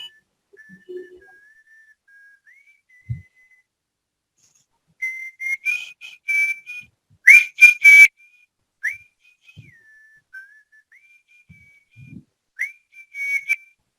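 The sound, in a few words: person whistling a song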